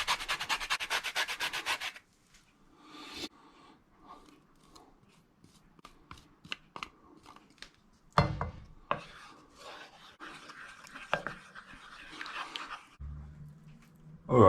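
A fresh orange is rubbed over a grater for its zest, making a dense run of quick rasping strokes at first. Scattered lighter scrapes and taps follow, close by and with no talking.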